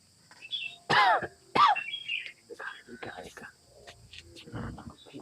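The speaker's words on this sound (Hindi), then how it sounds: "अब खांसी आवती है का हो?" A couple of harsh coughs and throat clears up close, followed by faint mumbling speech.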